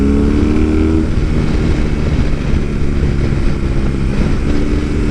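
A BMW motorcycle engine runs loud and close, its steady roar rising and falling slightly with the revs, with no one speaking.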